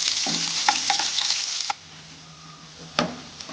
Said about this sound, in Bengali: আমার তেলটা একটু গরম হয়ে গেছে, প্রথমে আমি রসুনটা দিয়ে দেবো